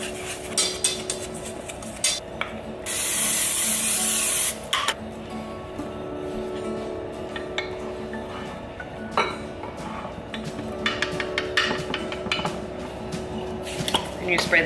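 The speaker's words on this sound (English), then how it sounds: "And you spray the top with oil as well." Cooking oil sprayed over breakfast batter before baking: one short hissing burst of about a second and a half, set among light clinks of dishes and utensils, with brief talk nearby.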